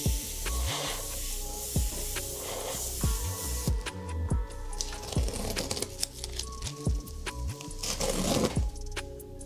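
Short bursts of airbrush spray hissing on and off, close by, with light tapping and handling noises between them.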